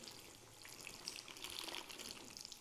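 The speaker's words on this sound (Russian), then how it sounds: "Мы будем заливать именно горячей водой." Hot water poured from above over vegetables for pickled cabbage, a steady close splashing gush with no talking.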